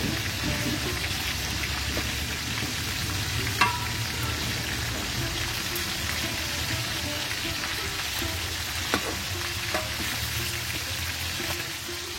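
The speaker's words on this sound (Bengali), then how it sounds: "মাংসগুলো সুন্দর করে ভেজে নিচ্ছি" Meat fries on a village stove, a continuous crackling sizzle like rain with occasional stirring clanks against the pan, no voices.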